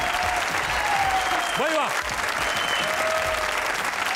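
A studio audience at a comedy talk show applauds a guest, with steady dense clapping throughout, while a voice briefly calls out over it.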